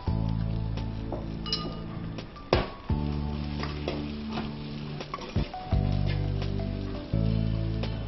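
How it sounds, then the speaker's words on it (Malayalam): Dried red chillies sizzle in hot oil in a pan while a spatula stirs and scrapes, with several sharp metallic clinks against the pan over steady frying crackle. "എന്നിട്ട് വീണ്ടും നല്ലപോലെ വഴറ്റുന്നു."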